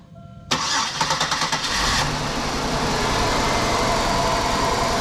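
A 2005 Buick Park Avenue with a random misfire cranks with a quick rhythmic churn for about a second and a half, then catches and settles into a loud, steady idle close by.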